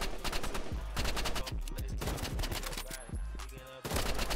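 Rapid gunfire from the shooter video game Rivals, with dense bursts of sharp, loud shots in quick succession over game sound effects, ending in a brief lull and a final shot.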